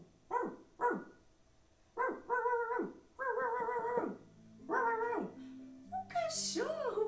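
Several short, wavering dog-like yips and barks come in bursts, ending in a higher whine. They are fairly quiet and likely a person imitating a dog for children.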